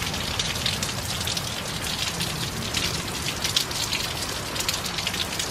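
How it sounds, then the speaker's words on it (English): Heavy storm rain pelts surfaces near a house, a loud, dense, steady hiss of drops with no talking. "I think it's raining and it's loud."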